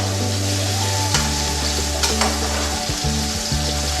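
Rib eye steak pieces sizzle loudly in a hot pan, a dense steady frying crackle with some stirring and turning noises, close and continuous with a low hum underneath.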